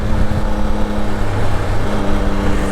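A 2022 Yamaha Tracer 9 GT motorcycle at riding speed, with a steady broadband rush of wind buffeting over a constant engine drone, continuous and loud with no voices.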